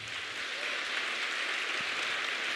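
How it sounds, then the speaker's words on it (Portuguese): Church congregation clapping together, a dense, even wash of applause that holds steady throughout, with no talking. "Bata palmas para o Senhor."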